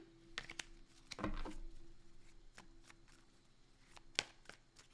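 Tarot cards being shuffled by hand in a quiet room during a reading, giving brief papery riffles and soft slaps in short bursts, with one sharp snap near the end and no talking.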